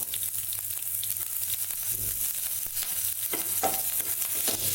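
Green chillies and curry leaves spit and sizzle in hot oil, a steady close crackle with sharper pops and a brief stir near the end; no voices.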